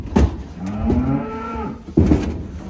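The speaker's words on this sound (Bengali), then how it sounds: "এটা হচ্ছে আপনার বকনা বাছুর" Cattle moo loudly and close by at a cow farm in Saudi Arabia at night, with a long drawn-out low call in the middle and deep grunting lows at the start and end.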